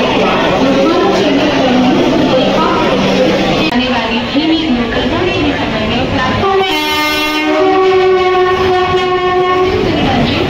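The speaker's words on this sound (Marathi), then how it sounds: "चला, ट्रेन मध्ये भेटू आता." Passenger train en route to Shirdi rumbling along the tracks with clickety-clack, then a long loud horn blast sounding near the end over the steady roar; voices are mixed in.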